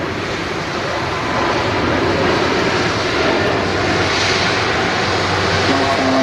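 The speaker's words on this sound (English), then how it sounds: "Just as an Aer Lingus flight 45 to JFK departs." Aer Lingus jet bound for JFK departing Manchester Airport, a continuous broad engine roar that swells slightly and holds steady, heard from a distance with no talking.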